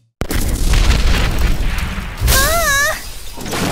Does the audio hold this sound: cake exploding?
yes